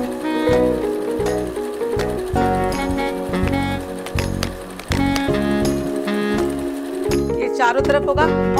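A home sewing machine stitching a seam all the way around the edge of a quilted tote bag, running as a steady mechanical whir with rhythmic needle pulses, loud and close, with a brief pause near the end.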